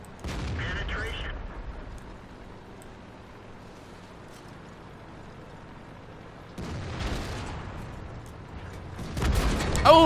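A tank cannon fires in World of Tanks, a loud close boom with a long rumbling tail, followed later by more heavy blasts and mechanical game noise.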